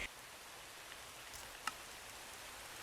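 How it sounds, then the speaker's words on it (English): Rain falls in a Minecraft-style survival game, a faint steady hiss of drops with a few soft ticks, alone without talk. "It's raining!"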